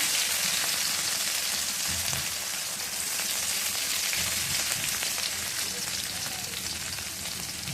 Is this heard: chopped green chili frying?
yes